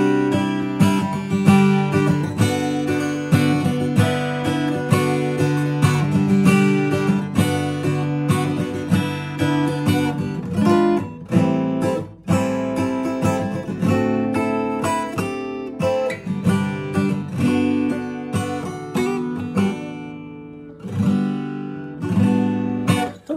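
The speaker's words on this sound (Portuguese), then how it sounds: "Esse foi o som do violão Gonzales." Gonzalez luthier-made folk acoustic guitar played with strummed chords and picked notes, steady and close, rich harmonic ringing throughout with a brief pause near the end.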